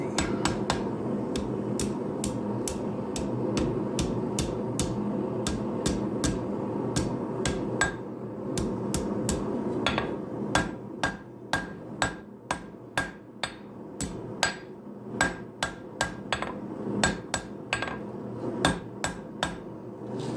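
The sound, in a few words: blacksmith hammering hot steel stock to forge knife-making tongs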